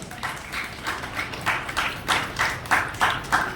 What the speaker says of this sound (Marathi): एकदा जोरदार टाळ्या होऊन जाईल